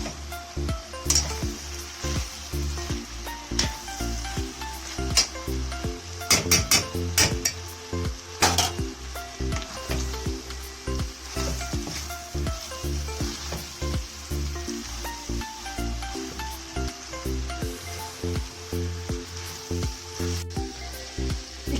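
Tomato paste sizzles steadily in a pan with green beans while a utensil stirs and clinks against the pan now and then, a loud continuous frying hiss throughout.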